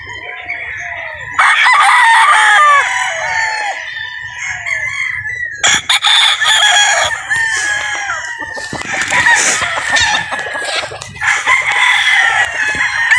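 A rooster crows repeatedly, loud and close, with clucking and other fowl calls in between and faint background noise.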